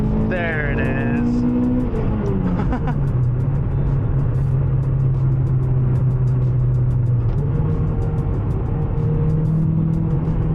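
Toyota Matrix hot hatch engine buzzing under way from inside the cabin, revving up through a gear, dropping on a shift, then holding a steady loud drone before climbing again.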